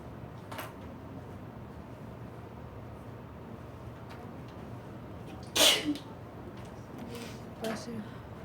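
A single sharp sneeze bursts out in a quiet room during a chemistry test review session, followed shortly by a faint second sound and low background murmur.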